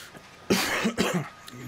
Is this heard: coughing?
yes